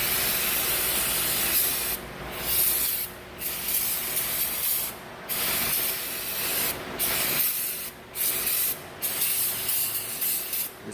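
Brake cleaner sprays onto the parts of a 1999 Mazda engine during a valve cover repair in several loud, close hissing bursts of one to two seconds, with short pauses between them.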